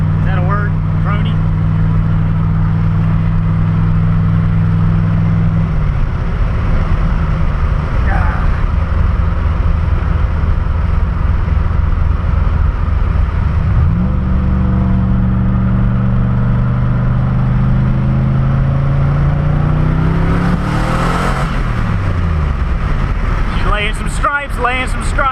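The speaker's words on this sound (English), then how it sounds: "Mufflers are kind of drony, but it's a lot quieter in here" A turbocharged LSX-swapped RX7 drones steadily from inside the cabin through its mufflers, with the engine note holding level and then rising and falling as the revs change, a voice briefly heard near the end.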